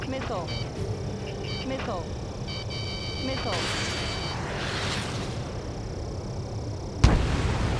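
A target blows up in the jet combat game Ace Combat 7: Skies Unknown, a muffled blast and rumble under steady aircraft engine drone, with radio chatter, ending in a sharp closer bang.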